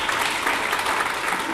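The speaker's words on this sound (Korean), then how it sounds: "박수 한번 부탁드리겠습니다." A steady wash of applause from a crowd at a graduate school entrance ceremony, continuous clapping filling the whole moment without any speech over it.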